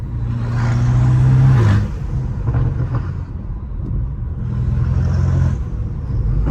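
A BMW M5 Competition with turbo engine revs loudly on a Los Angeles street, a deep rising rumble that swells, drops off after a couple of seconds, then builds again.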